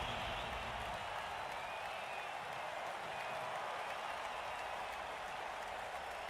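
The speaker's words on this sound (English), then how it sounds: "Cheering fans." Crowd of fans cheering and applauding in a Blood Bowl 3 match, a steady distant wash of clapping and roaring that holds evenly throughout without distinct peaks.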